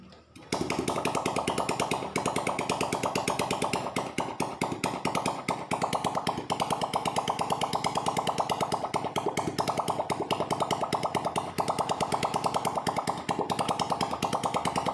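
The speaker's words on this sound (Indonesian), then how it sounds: "Kita coba nyalakan dulu ya, kita tes olinya naik apa enggak" A Yamaha Vega R motorcycle engine with a newly fitted piston idles with no exhaust pipe attached, a loud, close, raw rapid popping chatter that runs steadily without pause, no voices over it.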